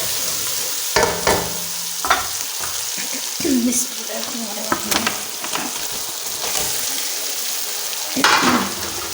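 Greens of saag go into masala frying in oil, followed by a loud steady sizzle broken by stirring scrapes and thumps, close by, with no talking.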